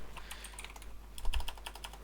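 Typing on a computer keyboard, including a Ctrl-X cut shortcut, makes a quick run of close, crisp key clicks with a slightly louder cluster near the end, with no talking.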